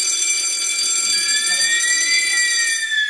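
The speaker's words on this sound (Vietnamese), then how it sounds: "Ví dụ ở tầng nào cháy thì bấm để cho báo động tất cả các buồng nó biết để nó chạy." A local fire alarm system in a multi-storey house sounds after its button is pressed, giving a loud continuous high-pitched electronic tone that rings steadily throughout.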